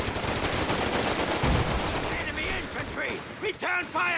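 Bursts of machine gun fire crackle in the Company of Heroes 3 strategy game, dense rapid shots up front that thin out, followed by a few separate impacts and whistling effects near the end.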